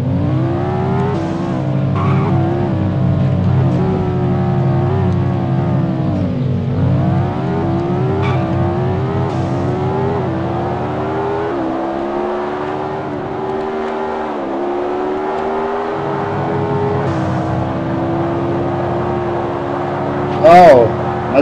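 A car engine revs steadily through a video game car race, its pitch rising and falling with gear changes, with a brief screech near the end and someone talking excitedly over it.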